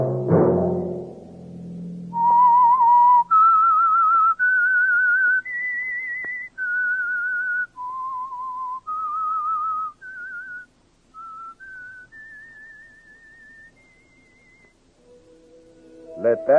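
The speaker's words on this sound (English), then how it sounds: "Let that whistle be your signal for Whistler each Monday at 9." A person whistles a slow, clear melody of sustained notes, stepping up and down in pitch with short pauses, close and loud after a brief low rumble.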